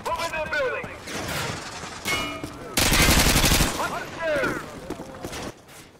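Rapid automatic gunfire in a Call of Duty MW2 co-op campaign, a dense loud burst of shots in the middle, with excited voices talking before and after.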